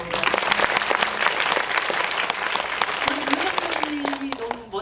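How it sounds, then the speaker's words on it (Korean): Audience applause fills a cinema hall at a film Q&A screening event, dense steady clapping throughout with a voice briefly speaking over it near the end. "박수 부탁드립니다"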